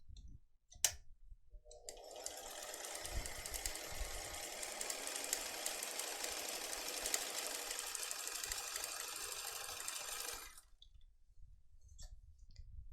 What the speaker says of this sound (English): sew down each side to secure the pocket